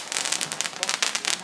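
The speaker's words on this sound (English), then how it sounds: "Catch me in the beautiful fireworks." Bonfire night fireworks crackle and pop in rapid, dense bursts, loud and close, filling the whole moment without speech.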